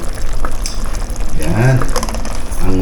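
Water bubbling at a boil in a cooking pot of snail eggs, a dense rumbling churn that runs throughout, with someone talking over it and a brief tonal clink in the middle.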